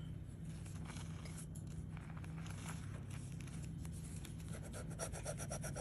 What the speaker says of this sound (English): Get your ticket out, scratch with me.